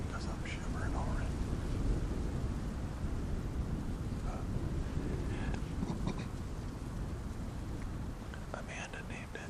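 Strong, cold wind blows outdoors at a reservoir during deer hunting, producing a steady broadband rush with gusty fluctuations.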